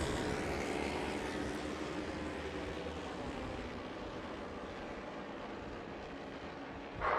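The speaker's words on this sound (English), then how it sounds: "The revs go up, and away they go. Machine revving off the line." Classic racing motorcycles at a bike festival roar off the start line together, a loud, dense, sustained engine blare that holds steady for several seconds, with no speech.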